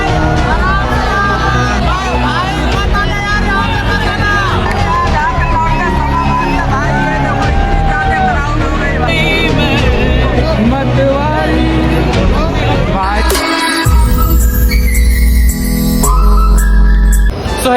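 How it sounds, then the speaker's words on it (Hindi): A dense Christmas Day crowd on the street at Hazratganj in Lucknow, near the Cathedral Church, with a steady loud babble of many voices, whistles and traffic, while music plays throughout and a sharp loud burst of noise comes near the end. "जिधर उधर भीड़ ही भीड़ दिखेगी।"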